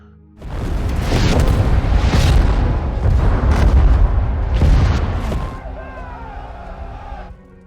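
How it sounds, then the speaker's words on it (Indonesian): Bomb blasts striking enemy tanks in the war film 12 Strong: a sustained, loud, rumbling wall of explosions and debris lasting several seconds before fading into a quieter tail, with some talk overlapping. "Setelah bom dijatuhkan dan berhasil mengenai musuh beserta dengan kendaraan tank yang ada di sana"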